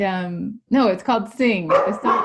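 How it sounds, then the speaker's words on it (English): A dog barks and yips in short bursts close to the microphone while a person talks over it indoors. "sorry about the dog barking"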